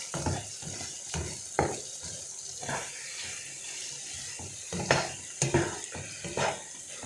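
Cheddar bacon gnocchi frying in a pan are stirred, giving a steady soft sizzle with scattered scraping clicks and knocks from the utensil.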